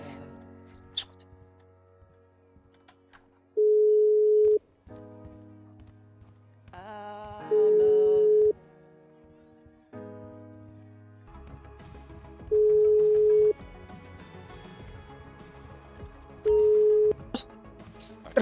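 Phone ringback tone from a call in a GTA V roleplay session, sounding as four steady beeps, each about a second long and spaced a few seconds apart, over background music and game sounds.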